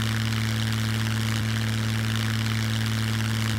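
Steady propeller airplane engine droning in the survival game SCUM, a loud continuous idling hum with strong low tones that fills the whole stretch without pause.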